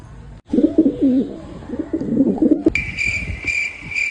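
A pigeon, a fantail breed, gives a run of low, throaty coos close by, then a bright steady whistle or insect-like tone takes over near the end.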